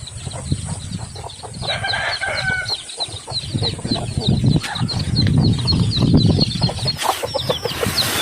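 A rooster crows among clucking chickens and flapping wings, with small birds chirping throughout and no one speaking.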